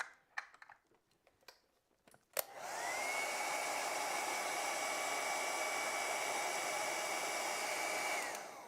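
Hair dryer blowing on wet acrylic paint, switching on after a few soft clicks and taps and then running as a steady, close, even whoosh for about six seconds before cutting out.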